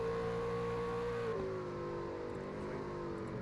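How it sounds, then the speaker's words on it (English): A race truck engine drones at steady high revs without shifting during a racing video game, a continuous near loud hum with a slight pitch drop midway and no talking. "we're hearing Zach still not shifting yet as they go around the lap car of Josh Smith"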